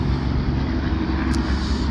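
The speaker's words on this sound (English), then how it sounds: "Pardon any road noise, we are right next to Interstate 40 here." Constant low roar of road traffic from nearby Interstate 40, steady and loud throughout with no talking.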